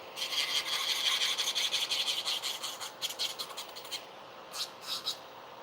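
An electric nail file spinning at 9,000 RPM works around the cuticle of a medium-length almond-shaped nail, giving a steady close grinding rasp that breaks into short bursts and pauses toward the end.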